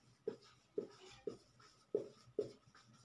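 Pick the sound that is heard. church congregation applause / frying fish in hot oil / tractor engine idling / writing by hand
writing by hand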